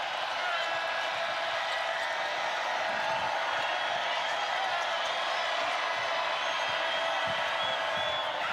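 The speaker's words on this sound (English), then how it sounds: "the crowd gets a little louder" Crowd noise in a women's college basketball arena during a Kentucky vs Texas A&M game, a steady broad roar at moderate distance under a commentator's voice.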